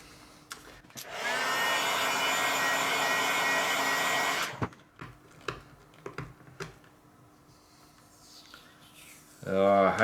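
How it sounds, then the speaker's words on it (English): A heat gun blows loudly and steadily for about three seconds, then cuts off, followed by scattered clicks and handling noises and a voice starting to speak at the end. "I'm going to use a heat gun, which we'll do now."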